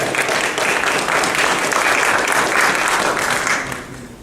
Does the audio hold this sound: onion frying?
no